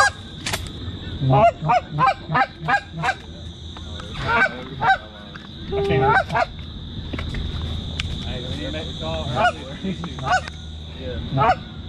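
Flock of geese honking repeatedly over an early-season dry field hunt in eastern North Carolina, loud rhythmic calls in bursts close by, with hunters talking and laughing over them.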